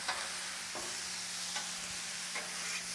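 Wagyu steak tips sizzle on a Blackstone griddle in a steady broadband hiss, with a few soft scrape-like clicks from a spatula and a faint constant hum underneath, no voices.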